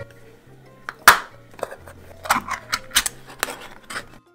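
A can of corn is opened by hand in a kitchen, giving a sharp metallic pop and clank followed by a string of short scraping and clinking metal sounds, close and fairly quiet with a faint low hum underneath.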